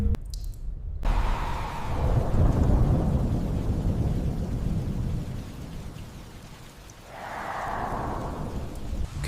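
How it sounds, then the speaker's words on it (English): Steady rain drums down with a deep, rolling thunder rumble swelling in the middle, heard from inside an apartment in town at night; no voices. "That night, back in town, rain thrums the apartment windows."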